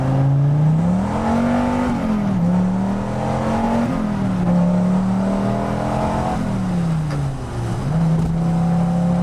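A Dodge Viper pulls hard in first gear, its engine note rising and falling through repeated surges as it revs out, loud and close, with music faintly playing inside the cabin.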